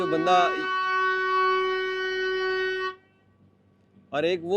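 A ship's horn gives a long, steady, deep blast for a few seconds, then stops, warning another ship directly ahead in Halong Bay; a voice speaks briefly before and after it.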